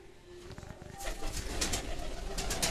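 Domestic pigeons coo softly at close range, including a male and a female that is about to lay an egg. Low repeated coos sit over a quiet background, and later brighter rustles and wing sounds join in.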